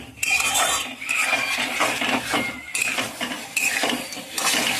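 Cut potatoes tumble into a pan of oil-fried spice paste for a Bengali fish curry and are stirred, a dense run of scraping, clattering utensil-on-pan sounds with short pauses, close and fairly loud, no talk.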